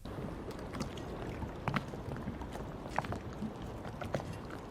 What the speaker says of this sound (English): I had this little sound for the boat, just like have some sort of splashing against it.